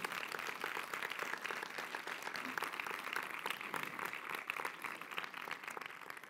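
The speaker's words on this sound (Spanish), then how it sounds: "me gustaría terminar con un fuerte aplauso para ellos" An audience at a Spanish tech talk on building a cloud data lake applauds, a faint, steady wash of many hands clapping heard from a distance.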